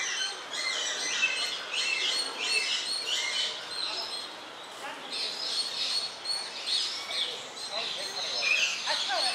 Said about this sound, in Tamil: இங்கே வந்து இந்த பறவைகளோட சவுண்டை வந்து கேட்கலாம்.